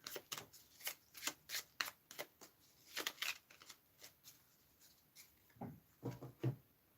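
Tarot cards handled and shuffled by hand, a series of quick papery riffles and flicks in uneven bursts, close and fairly quiet, with no talk.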